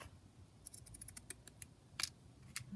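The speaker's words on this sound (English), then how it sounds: "So look, cut the threads off." Scissors snip threads off a junk journal cluster, a quick series of faint, close, crisp cuts, about a dozen snips in a little under three seconds in a quiet room.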